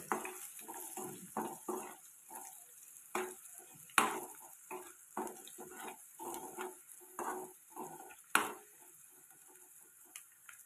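Garlic and chillies fry in a pan with a steady soft sizzle, broken by a series of sharp spatula scrapes and clinks against the metal, close and moderately loud with no voices.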